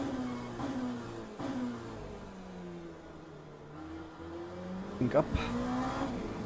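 An Oreca LMP2 race car's engine in the Le Mans Ultimate racing game: a steady droning engine with shifting pitch through the gears, a brief squeal near the end, and someone talking over it.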